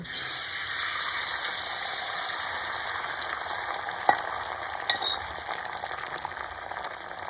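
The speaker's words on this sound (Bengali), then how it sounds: "এবার আমি ফেটিয়ে রাখা ডিমটা তাওয়ার মধ্যে দিয়ে দেব" Beaten egg frying in white oil on a hot tawa, a steady hissing sizzle throughout with a single clink near the middle and a brief louder spatter just after, no voices.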